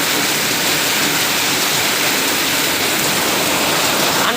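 Heavy rain pours down in a dense, unbroken hiss, loud and close throughout with no pauses.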